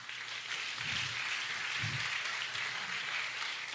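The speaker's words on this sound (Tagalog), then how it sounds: "Yung palakpak na yan" Audience applause in a church service, a steady and fairly distant patter of many hands with a few low thumps underneath, and no talk over it.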